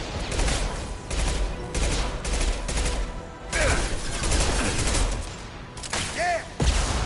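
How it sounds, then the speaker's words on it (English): Shotgun and other weapons fire in a Mass Effect 2 combat scene on PS5: dense, continuous bursts of gunfire and explosive blasts, loud and close, with chaotic battle noise throughout. "Shotgun!"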